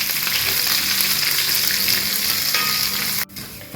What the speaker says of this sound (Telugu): ఇవన్నీ కూడా ఇప్పుడు దోరగా వేయించుకోవాలి.